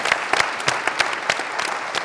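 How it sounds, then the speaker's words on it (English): Light audience applause at a Solana user-onboarding panel event, a smaller scattering of distinct claps with uneven rhythm, moderately close and brief. "Let's give them a round of applause"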